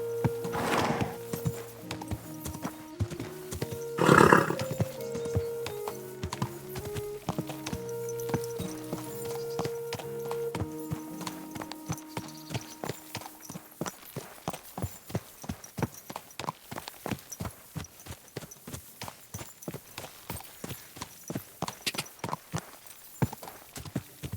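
Horse hooves clip-clop steadily in Kingdom Come: Deliverance II, a dense, even walking rhythm that runs throughout, with a louder tonal burst and an occasional neigh early on.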